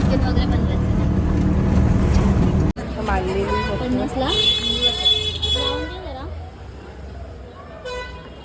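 Ride in an auto rickshaw heading to a station at night, with a steady engine and road rumble underneath, a horn toot partway through, and voices talking over the noise.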